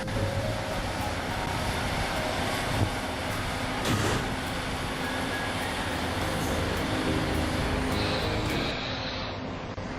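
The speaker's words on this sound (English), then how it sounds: "Trains of all kinds and companies are coming and going all the time." A train slows and rumbles steadily through Edinburgh Waverley, a large, echoing railway station, with low engine drone, occasional clanks and a brief high squeal as it moves along.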